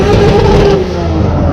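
A drift car engine revs loudly at a drifting show, a strong rising and holding roar that eases off slightly toward the end, with a voice faintly under it.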